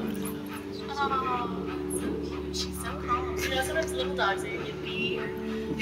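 A dog whimpers and yips in the video game That Dragon, Cancer, with soft whines and short barks repeating over a steady music drone while a person talks over it.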